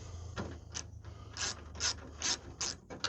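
A ratchet works loose the 10mm bolts holding a car's front grill, giving bursts of quick metallic clicking in short strokes with brief pauses between them, close and fairly clear.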